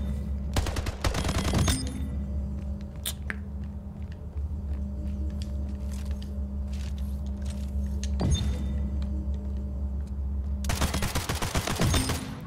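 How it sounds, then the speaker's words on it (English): Assault rifle fire in Halo Infinite during a Big Team match, with sharp bursts of rapid automatic shots near the start and end and scattered single cracks between, all over a constant low droning rumble of vehicles and battlefield ambience. "Assault rifle."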